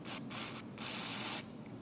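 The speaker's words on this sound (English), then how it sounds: "we'll just spray it down the hatch." A spray can is aimed down the intake of a Honda Lawnboy lawn mower that starts and then dies. Three short, close, quiet hissing bursts come in a row, with the last one the longest.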